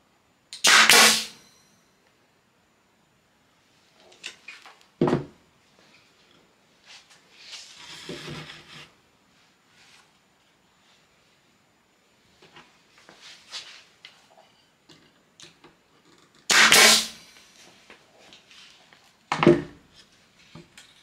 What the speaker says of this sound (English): I'm going to use a nail gun, but you could use screws as well if you would like.